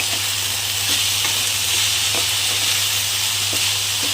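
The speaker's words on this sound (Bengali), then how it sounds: "আলুটাকে আমি হালকা করে ফ্রাই করে নেবো দেখো হালকা কিন্তু ব্রাউন করে আলুগুলোকে ভেজে নিয়েছি" Potatoes frying in a pan of oil, a loud, dense, continuous sizzle with occasional faint stirring knocks, close and unbroken throughout, with no one talking.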